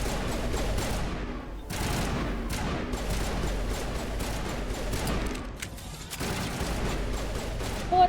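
Rapid bursts of automatic gunfire from a Bioware video game, dense and continuous with overlapping shots and brief pauses, loud and close throughout with no talk.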